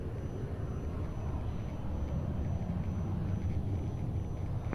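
A fixed-wing airplane rumbles steadily in the distance during takeoff on runway 02 at Lisbon Airport, a low, continuous engine roar under broadband noise with no voices.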